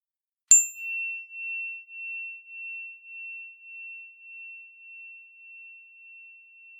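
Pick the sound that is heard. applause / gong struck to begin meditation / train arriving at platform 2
gong struck to begin meditation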